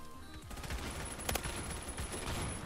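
Rapid automatic gunfire from an M16A3 assault rifle and other weapons in the online shooter Phantom Forces comes as dense, overlapping bursts. The rattling fire stays loud and continuous through the short moment, and no one speaks.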